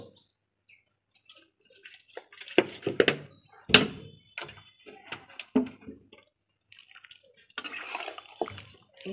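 Water rinsed off a spatula into a cooking pan of bottle gourd, shrimp and potato, heard as scattered splashes, clinks and trickles at close range between quiet gaps.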